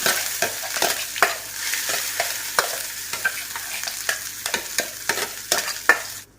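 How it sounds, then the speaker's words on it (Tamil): Curry leaf paste with sliced pieces sautéing in oil for a curry leaf thokku, a steady sizzle broken by regular scraping stirs from a spoon against the pan, close and fairly loud. "சேர்த்துக்கப்புறமா லேசாக அந்த எண்ணெயிலே கொஞ்சம் வதக்கி விடலாம்"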